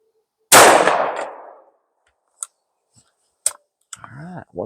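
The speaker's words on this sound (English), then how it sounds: "Let's go to those half cock shots." A single loud, sharp gunshot from a Grand Power P40 10mm semi-auto handgun with rotating barrel, fired from half cock, rings out and decays, followed by a few faint clicks and brief speech.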